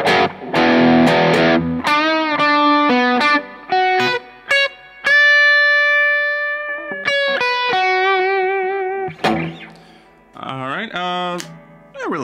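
An electric guitar plays through a Mesa Mark V:25 amplifier in its low gain zone: loud, lightly driven riffs of choppy chords and bent single notes, with a long ringing note in the middle and brief gaps between phrases.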